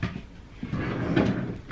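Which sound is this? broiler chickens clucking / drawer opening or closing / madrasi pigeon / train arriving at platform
drawer opening or closing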